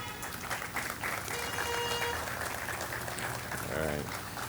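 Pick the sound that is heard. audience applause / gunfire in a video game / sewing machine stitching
audience applause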